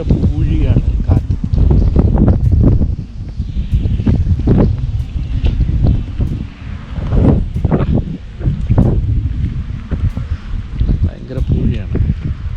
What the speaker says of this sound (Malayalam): ഇപ്പം കാറ്റിൻ്റെ സൗണ്ട് കേട്ടോ, ഭയങ്കര സൗണ്ടാണ്, ഭയങ്കര പൂഴിയാണ് കാറ്റ്.